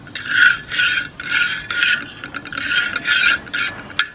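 Metal spatula scrapes oil across a pan used to fry an egg in the sun, with repeated rhythmic raspy strokes about every half second and no talk.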